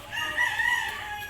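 A rooster crows once in a short drawn-out call, moderately distant outdoors, with no talking over it.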